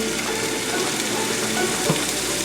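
Chopped green onion fries in a pan for an Italian sugo, making a loud, dense, continuous sizzle with faint scraping of stirring underneath.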